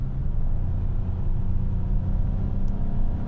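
Hyundai Palisade Calligraphy V6 accelerating at half throttle, heard from inside the cabin as a steady low, droning rumble with a constant level and no talk.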